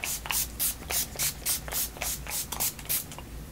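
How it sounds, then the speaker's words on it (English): A hand-pumped bottle of hair spray made with water, essential oil and aloe mists repeatedly at close range, giving about a dozen quick, hissing sprays in a steady rhythm. "So I just spray my hair."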